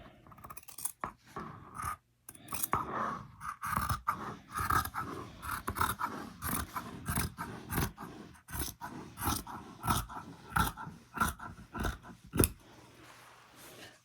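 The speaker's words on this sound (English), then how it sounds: "I'm going to cut off this extra white fabric at the same time" Scissors cutting away extra white fabric while making a sewn pillow cover, heard as a long run of close, crisp snips and scratchy blade strokes with irregular rhythm and no talking.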